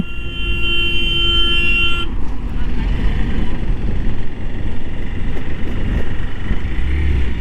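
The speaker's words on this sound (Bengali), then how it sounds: "এই প্রথম দেখলাম একটা গাড়ি হর্ন দিচ্ছে আমাকে।" A vehicle horn blares in one long, steady honk near a mountain road from Dalhousie to Killar, then cuts off, leaving a constant rumble of engine and road noise.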